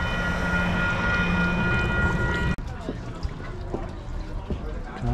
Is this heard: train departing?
yes